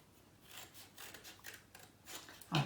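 Scissors cut through paper in a series of soft, close snips and rasps, with a louder crunch at the end, quiet overall and without talk.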